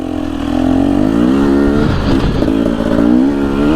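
A Gas Gas TE 250 dirt bike engine revs loudly and close, its pitch rising and falling through throttle blips, holding a steady rumble with a brief burst of higher revving in the middle.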